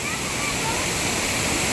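Chillithodu waterfall at Adimali in Idukki pours in a steady, loud, close roar of rushing water that holds unbroken throughout.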